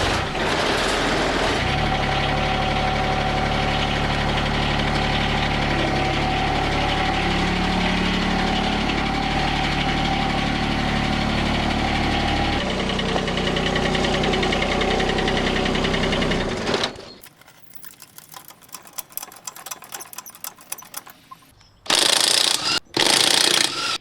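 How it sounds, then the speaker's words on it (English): Pressure washer cleaning a John Deere X750 mower, a loud steady motor drone running continuously for about seventeen seconds, then cutting out to quieter intermittent bursts near the end. "For now though, let's just give it a pressure wash."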